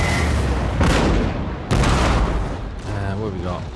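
Booming 3-pounder cannon fire in a Napoleonic-era Empire: Total War battle, two heavy blasts about a second apart with rumbling tails, followed by a voice speaking over the fading roar.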